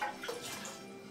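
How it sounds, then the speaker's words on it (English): A faulty toilet in a casino restroom flushes weakly, a faint gush and trickle of running water that fades out over about a second. "it seems like the flush doesn't work properly either"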